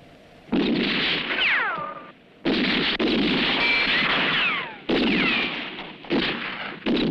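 Rifle gunfire in a spaghetti western shootout, loud sharp shots with ringing, whining ricochets trailing off, repeated in four separate bursts with brief gaps between them.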